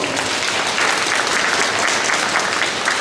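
An audience at a middle school entrance ceremony in Korea claps steadily and loudly for about three seconds, with no voices over it.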